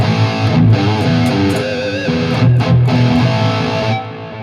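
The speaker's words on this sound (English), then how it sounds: "the vintage rack delay might be a little bit too much here with this." Electric guitar through a Valeton GP 200 with vintage rack delay, into a Boss Katana head and Marshall 1960 vintage cabinet miked with an SM57, playing loud distorted notes with repeating echoes trailing behind, no talking.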